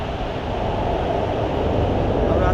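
A Shenzhen metro train pulls into the station with a broad, low rumbling roar that swells slightly louder over a couple of seconds.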